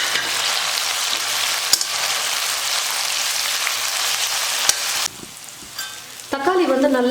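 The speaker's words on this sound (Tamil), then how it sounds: "அதை சேர்த்து நல்லா வதக்கிக்கிறேன்" Chopped tomato stirred into onions in a hot pan for a tamarind kuzhambu, a loud continuous sizzle and crackle with a few spoon knocks, dropping to a quieter hiss before a tonal sound enters at the end.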